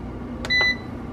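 Air fryer being set to 360 degrees to start cooking chicken wings, giving two short electronic beeps close by with a steady low background hum.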